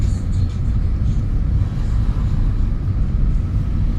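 A car on a long driving-school drive around Solan hums with a steady low engine rumble and road noise from inside the cabin, continuous and even as it picks up speed.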